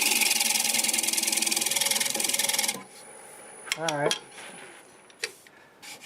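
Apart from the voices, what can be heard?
lathe scraping an English walnut turning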